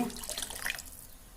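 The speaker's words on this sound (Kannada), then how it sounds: "ಮತ್ತೀಗ ಹುಣಸೆ ನೀರು ಹಾಕ್ತೇನೆ" Tamarind water is poured into a cooking pot for a sour dish, giving a brief soft splashing trickle that is close and fairly quiet and fades out within about a second.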